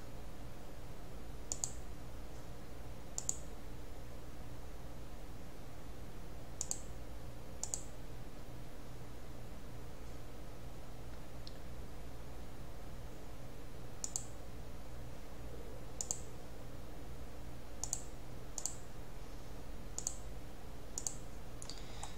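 A computer mouse clicks to enter music notes into notation software, giving sparse, crisp single and double clicks at irregular intervals over a steady low hum, quiet and close.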